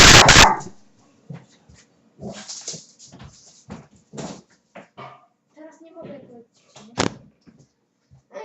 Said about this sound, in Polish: niestety pies mi się odezwał